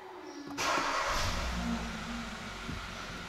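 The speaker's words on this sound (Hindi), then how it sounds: "और अभी हम करते हैं गाड़ी को ऑन।" A car engine switched on indoors or in a garage: a sudden starter crank and catch, then a steady rumbling idle that settles and continues, fairly close.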